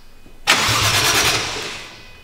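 A 1JZ engine in a NASCAR drift build catches after a quiet lead-in, bursting into a loud, close rumble that settles toward a steady idle.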